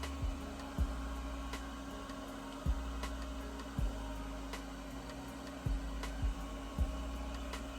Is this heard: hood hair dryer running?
yes